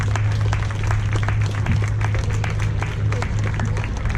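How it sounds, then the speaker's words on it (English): Applause from a crowd gathered for a charity walk, steady dense clapping throughout, moderately loud over a low steady hum of the outdoor sound system. "Give yourselves a round of applause."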